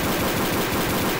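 Pistol shots from the video game Codename Cure fire in a loud, rapid rhythmic string that stays close and fills the whole short moment.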